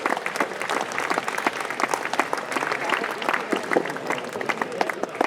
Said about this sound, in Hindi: जोरदार तालियों के साथ हम इसका स्वागत करें।